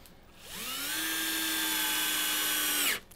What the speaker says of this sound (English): This is going to be boring for you guys because you're not seeing the screws going in.